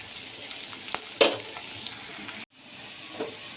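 Onion fries in a pan with a soft, steady sizzle, a sharp clatter near the middle and a brief drop to near silence before the frying resumes more quietly.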